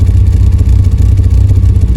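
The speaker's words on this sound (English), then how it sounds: "You can hear it's popping and not smooth." An engine runs close and loud with an uneven, lumpy idle, its exhaust giving off rapid irregular pops and chuffs.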